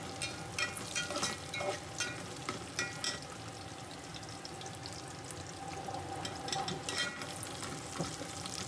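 A Marathi tempering of ginger and garlic sizzles steadily in a pan, with a spoon stirring and scraping through it in close, continuous bursts and no voices.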